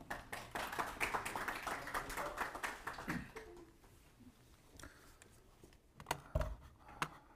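Audience applause at a manufacturing-technology conference as a company vice president walks on stage; dense clapping for about three seconds that thins out into scattered claps and taps before fading.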